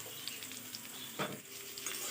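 Potatoes fry in a pan with green chillies added, a steady soft sizzle with a brief stirring scrape midway, quiet and close with no talk.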